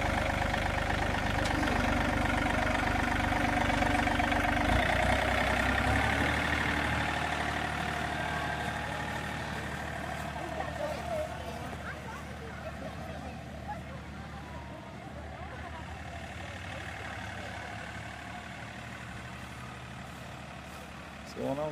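A hayride tractor engine idles steadily at an outdoor festival, a loud continuous rumble that gradually fades and becomes quieter over the clip, with people talking nearby.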